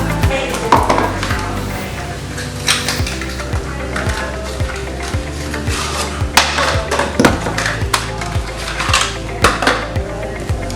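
Hair bleach, developer and Olaplex are stirred together in a bowl, giving a close, busy run of repeated scraping and clinking strokes against the bowl.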